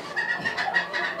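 A Mottled Cochin, a round, fluffy chicken breed from China, gives a short run of soft, repeated clucks at close range with no other voices.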